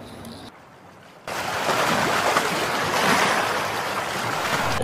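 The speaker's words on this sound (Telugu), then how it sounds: "అలలు భయంకరంగా వస్తున్నాయి" Rough ocean waves surge and crash around a small boat in a steady, loud wash of roaring water. A brief quieter gap comes first, and then continuous heavy surf follows.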